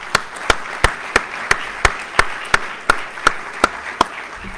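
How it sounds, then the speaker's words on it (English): About a dozen evenly spaced, sharp claps ring out one after another at a steady rhythm, fairly close and moderately loud, as a conference audience applauds the event staff at the close of a keynote. "Let's give them a round of applause."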